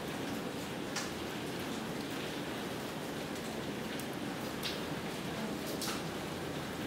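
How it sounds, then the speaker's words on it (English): Steady rain patters and hisses throughout, with scattered sharper drops ticking on a surface; no voices. "I can't hear you over the rain."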